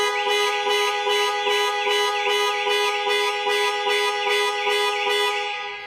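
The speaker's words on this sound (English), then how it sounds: "Press for 3 seconds or press 3 times in 3 seconds, and the horn will sound and the hazard lights will flash." A 2022 Land Rover Discovery Sport's horn blares in a steady, evenly pulsed pattern set off by the panic alarm, loud and close, repeating about a dozen times with no voices present.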